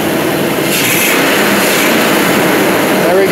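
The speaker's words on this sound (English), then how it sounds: "Give it a little bit of a rev." A stock Nissan Armada/Titan V8 engine revs once, a loud, close, sustained roar with a brief voice near the end.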